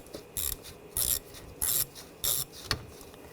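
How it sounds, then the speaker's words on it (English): A T30 socket ratchet removes a screw on a 2007-2013 BMW X5 coolant reservoir area with four short clicking ratchet strokes and a final clack, close and fairly quiet, with no talking. "Using a T30 socket, take the screw out"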